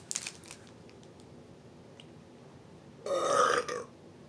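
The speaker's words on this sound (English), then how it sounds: "I might have to put that as root beer burp" A single close burp after eating Dad's root beer barrel candy, rising abruptly from a quiet room and lasting just under a second before fading back to near silence.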